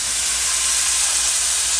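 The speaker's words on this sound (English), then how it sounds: "If you don't have that sizzle, your skillet isn't hot" Beef for pot roast sears in a hot skillet, giving a loud, steady, close hiss of sizzling fat with no pauses.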